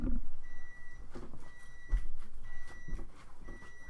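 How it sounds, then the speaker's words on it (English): A laundry machine's buzzer sounds in short repeated electronic beeps at an even rhythm, moderately loud, over faint background rustling and footsteps. "I'm doing my laundry and now the buzzer going off"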